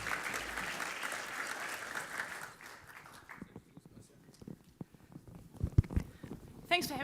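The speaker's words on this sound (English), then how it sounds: "Please give them a round of applause." Audience applause fills the first few seconds at a corporate customer event as a wine company's sales manager and commercial manager take the stage, then fades into scattered handling noises and footsteps.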